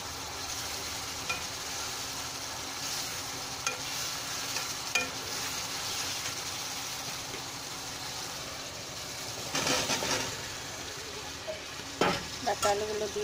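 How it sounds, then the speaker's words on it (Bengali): Fish head being sautéed in a pan for a Bengali fish head curry with drumsticks and potatoes, a continuous soft sizzle with scraping stir strokes and a few louder clatters toward the end, no voices. "এভাবে ভালো করে কষিয়ে তারপরে সবজিগুলো দিয়ে দিব"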